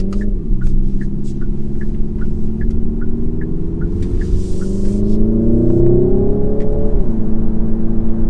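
A Hyundai Ioniq 5 N accelerates hard with its simulated engine sound, a loud, deep, throaty drone rising steadily in pitch with a brief dip like a gear shift, heard up close from inside.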